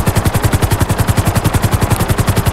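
A powerful helicopter in GTA 5 thumps along with a fast, steady rotor chop, loud and close, the evenly spaced beats repeating without a break.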